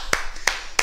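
Three sharp claps spaced evenly apart as a kickboxing class applauds itself after finishing a combination, crisp and close with a quiet pause between each.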